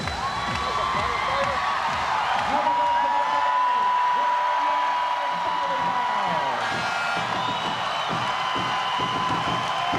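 A volleyball arena crowd cheers and whoops as a player rouses the fans during the pivotal third game of a Hawaii Warriors match against USC, loud and sustained throughout with voices mixed in.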